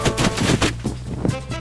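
Rapid bursts of video game gunfire crack out in quick succession, loud and close, with a few separate shots standing apart near the end.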